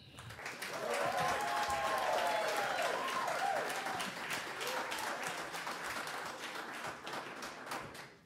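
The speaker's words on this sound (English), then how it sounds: "please show your love or a round of applause for our featured special guest today" A jazz audience applauds a featured special guest; steady clapping swells quickly and holds at moderate loudness for several seconds, with a few whoops and voices rising above it before it slowly thins.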